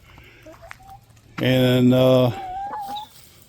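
Backyard hens from a flock of eight, including gold, red and barred rock birds. Soft clucks lead into a loud, sustained squawking call close by, then quieter clucking, with a brief word spoken.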